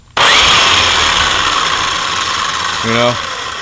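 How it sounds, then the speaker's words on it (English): A grinder fitted with a 36 grit wheel spins up abruptly and runs at a loud, steady high-pitched whine, with a short change in pitch near the end as it slows slightly. "This is a grinder."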